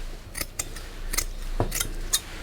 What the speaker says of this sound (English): The decorating scissors, because I forgot the really sharp ones, but I'm hoping these are going to cut.